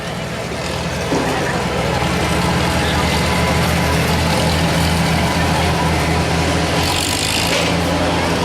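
A 5,000 pound stock class tractor pulling engine roars loudly and continuously at a pulling competition, a dense heavy drone with a faint voice underneath.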